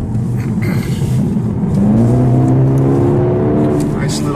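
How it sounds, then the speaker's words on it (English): A 2020 Mercedes-AMG CLA 35's synthetic engine sound hum rises into a deeper, growling tone with steady harmonics, close and sustained, like a car accelerating from inside the cabin. "Nice little synthetic exhaust noise. I don't know how much of that is authentic, but it doesn't sound bad."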